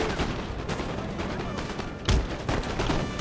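A musket volley from troops in Empire: Total War crackles as a rapid spread of gunshots over a steady battlefield din, with one heavier report a little past the midpoint.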